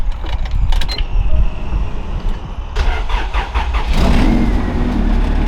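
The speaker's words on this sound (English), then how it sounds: "let's try turning it on and bringing it inside" Car engine cranking and catching after a spark plug problem, followed by a rough, loud idle that settles into a steady rumble close by.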